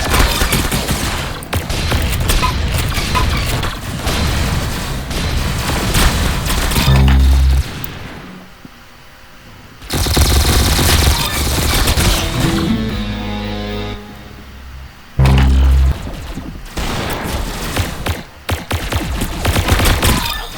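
Rapid gunfire in the Roblox shooter game Arsenal, loud bursts of repeated shots and volleys that pause twice briefly before resuming, with no talking.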